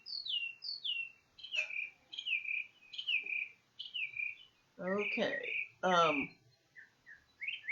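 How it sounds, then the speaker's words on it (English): Several small birds chirp and tweet around backyard bird feeders on a south-facing slope in spring, with repeated short, bright calls close by, briefly overlapping a speaker's voice midway. "the birds are particularly busy right now, as you can probably hear them in the background."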